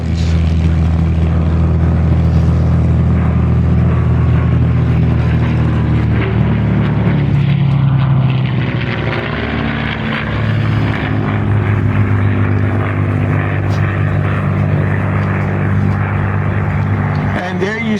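A P-51 Mustang with a Merlin engine flies past at a World War II weekend air show: a loud, steady propeller drone with a shifting pitch under continuous commentary from someone speaking.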